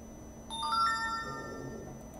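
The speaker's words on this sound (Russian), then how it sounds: "СМС-ка пришла." A mobile phone SMS notification chime, a short clear sequence of bright electronic tones rising in pitch, heard close up against a quiet background.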